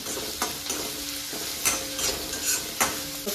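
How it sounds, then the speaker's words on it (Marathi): Salted onion fries on medium gas while being stirred, a steady sizzle broken by regular scraping strokes of the spoon every half second or so, close and moderately loud. "मीडियम गॅसवर भाजायचं। कांदा भाजताना थोडंसं मीठ ॲड करायचं"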